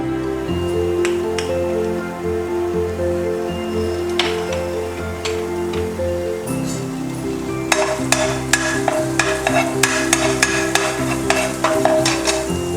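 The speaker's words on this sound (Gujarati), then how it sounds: "તેલ ગરમ થાય ત્યારબાદ આપણે તેમાં અડધી ચમચી જેટલું લસણ એડ કરીશું." Garlic sautéing in about a spoonful of hot oil in a pan, a steady close sizzle that runs throughout, with clicks and taps of stirring growing sharper toward the end; no talking.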